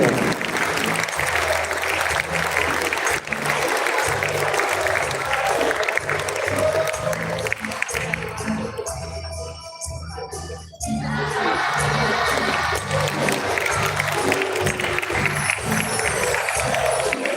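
An audience at a school theatre showcase applauds and cheers loudly for performers, sustained dense clapping with shouts and crowd noise, briefly dipping near the middle before swelling again.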